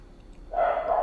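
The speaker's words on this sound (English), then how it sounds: "sorry for the barking" A dog barks once, close and loud, in the background of an indoor recording. It comes after a stretch of near quiet and holds as a single sustained bark.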